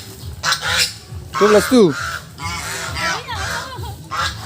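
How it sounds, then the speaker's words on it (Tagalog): Geese honk at a resort pool area, several loud harmonic calls bunched near the middle, with people talking close by throughout. "Gansa, di ba? Ah, gansa."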